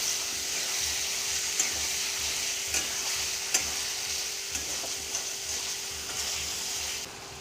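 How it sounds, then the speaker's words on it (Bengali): Green peas sautéed in a pan with a splash of water for a matar paneer dish, a steady sizzle and hiss running throughout with a few sharp spoon scrapes and clicks as they are stirred, close up, no voices. "এবার আমি এতে দিয়ে দিচ্ছি মটরশুঁটি। একটু হালকা জল দিচ্ছি কষিয়ে নেওয়ার জন্য ভালো করে।"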